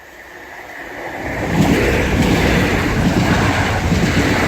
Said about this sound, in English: our first train is going to be a 365 for a Great Northern